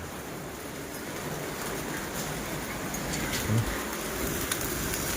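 Steady rain falls at night over a home yard where mackerel is grilled outdoors, a soft continuous hiss of drops on surfaces with a faint thump partway through.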